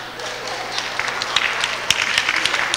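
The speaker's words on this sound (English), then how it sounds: "You can clap." An audience claps at the close of an evening rally event, a dense crackling patter with scattered louder individual claps building slightly over the few seconds.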